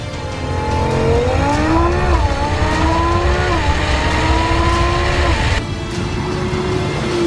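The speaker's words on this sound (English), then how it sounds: "this RS6 just motors from the line" Audi RS6 launching hard off the line in a drag race against an R8, its engine note climbing through gear changes as a loud, sustained roar with a brief tire squeal.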